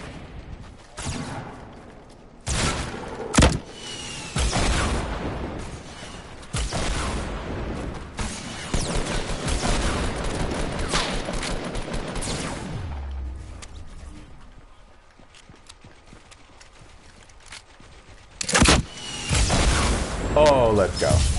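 Gunfire in an online multiplayer shooter game, scattered sharp bursts and booms spread through the clip, with players talking over much of it and a quieter stretch in the middle before more shots near the end.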